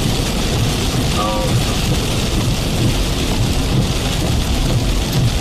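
Heavy rain pouring during a Texas/Louisiana storm chase, a loud, dense, continuous hiss of rainfall with low rumbling underneath, and faint talk mixed in.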